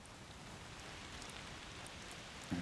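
Steady rain falls in the video game A Plague Tale: Requiem, a soft, even hiss of drops that runs the whole time at low volume, with a small bump near the end.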